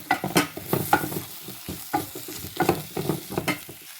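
Spice powder sizzling and frying in oil on low heat for a dried fish curry, with repeated close scraping strokes of a spoon stirring the pan in an irregular rhythm.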